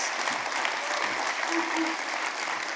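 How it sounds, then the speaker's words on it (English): An audience at a live song premiere event claps steadily in sustained applause, a dense wash of hands with no break. "Let's give them a big round of applause."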